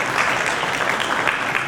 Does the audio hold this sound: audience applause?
yes